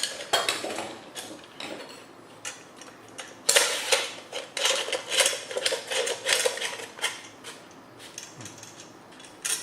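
A hand-crank MG214 meat grinder is assembled by hand, its metal parts clicking, clinking and scraping in quick irregular bursts as the cover is screwed shut, close by and fairly quiet.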